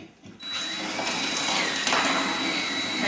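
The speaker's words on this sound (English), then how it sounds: "all you do is take a 1/8 inch drill" A 1/8 inch drill bores through a plastic part of an earlier-model flash dryer, a steady close whine with a high tonal line starting after a brief pause and running unbroken to the end.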